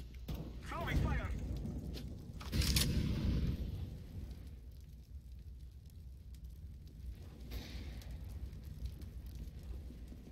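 A thrown fire grenade burns in the video game CS:GO on the Mirage map, a soft, steady crackling roar after a brief burst, faint and continuous with a voice heard early on.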